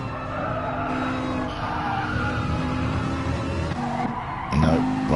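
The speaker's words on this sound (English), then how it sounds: "Let's get in the car of Talleyrand in his Ferrari" A Ferrari race car in a GT4 racing video game skids with a sustained tire squeal over a loud engine drone, with another burst of squealing near the end.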